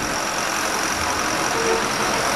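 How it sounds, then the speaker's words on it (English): Steady, loud drone from a large generator at a street wedding fills the whole clip, a constant low rumble with broadband hiss and no talking over it. "That large amount of noise you hear in the background is a generator,"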